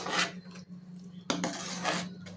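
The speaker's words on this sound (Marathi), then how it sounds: "साखर टाकून आपल्याला ते मिक्स करून घ्यायचं आहे।" A spoon stirs sugar into hot phirni in a cooking pot, giving a few close scraping clinks against the metal at irregular moments, fairly quiet and with no talk.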